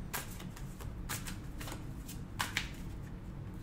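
Tarot cards shuffled by hand, a soft close riffling with a few brighter snaps, quiet and continuous with no talking.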